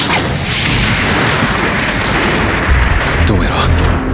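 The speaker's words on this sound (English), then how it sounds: "Hajime launches a decisive missile strike, easily defeating the boss" Missile strike explosions from an anime battle, with a boss defeated in a labyrinth: a dense, continuous rumble of booms and blasts that swells near the end, loud and close, with a voice-like layer mixed into the din.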